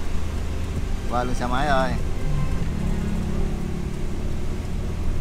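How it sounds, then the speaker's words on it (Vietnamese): Heavy rain drums steadily on a car driving through a strong storm with wind, a constant broadband wash with low road rumble throughout, while someone speaks briefly near the start. "Mưa khủng khiếp luôn."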